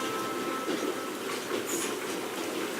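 A freight car on a train in Switzerland, in The Raven: Legacy of a Master Thief adventure game, rolls along with a steady, even rumble and faint clatter that runs continuously throughout.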